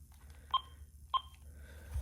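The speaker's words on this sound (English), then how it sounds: "And the base should beep." An AT&T E580 cordless phone base gives two short, clear electronic beeps about half a second apart, close by over a faint low hum.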